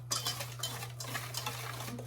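Food stirred in a pan with a utensil, a quick series of soft scraping strokes close by over a low steady hum, with no speech.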